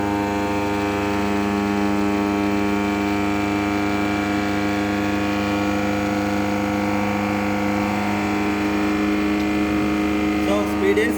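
An alternator set runs steadily at its rated 1500 rpm during a load test, a loud sustained machine hum with layered tonal whine that holds constant throughout, with a voice speaking over it.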